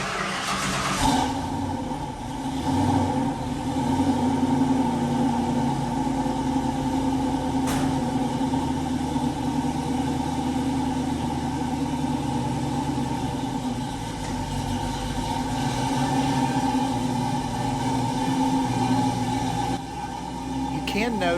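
A 1958 Corvette C1 restomod's engine runs at a steady idle, a continuous low hum with a faint lumpy edge heard from nearby, while people talk over it.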